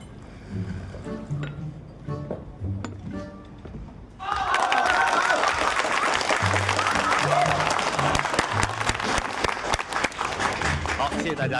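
Audience applause builds suddenly after some quieter sounds and voices, becoming a dense, sustained clapping that fills the room and carries on steadily to the end.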